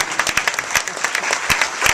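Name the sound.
audience applause at awards ceremony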